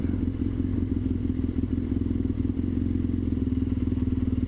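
Single-cylinder motorcycle engine idling nearby, a steady low thumping pulse with a faint mechanical clatter, constant in level throughout.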